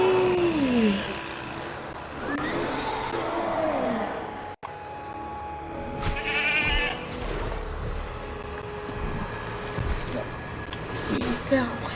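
A goat bleating as an Indominus Rex eats it in the video game Jurassic World Evolution 3, several wavering bleats near the start and again midway, heard under ongoing game sounds and a person talking.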